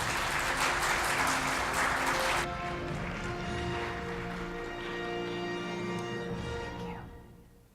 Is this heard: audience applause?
yes